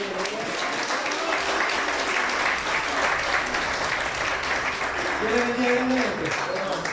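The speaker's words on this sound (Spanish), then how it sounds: "Le damos un aplauso" Steady applause from a church congregation welcoming first-time visitors, moderately loud clapping running throughout, with a voice talking over it toward the end.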